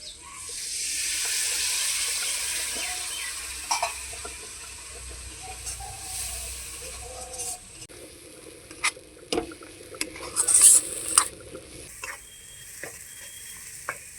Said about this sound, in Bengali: সামান্য একটু জল দিয়ে মশলাটাকে কষিয়ে নেব।